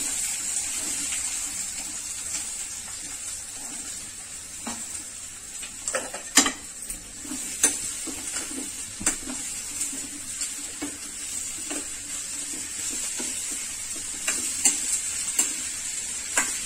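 Cumin and turmeric frying in hot oil while being stirred, a steady quiet sizzle broken by scattered scraping clicks of the spoon against the pan.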